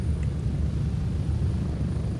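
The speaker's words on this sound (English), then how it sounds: "it will take off without everyone being present on the helicopter" Steady low rumbling roar of a helicopter lifting off in the military shooter game Grey Zone Warfare, a continuous dense drone with no clear rotor beats and no talk.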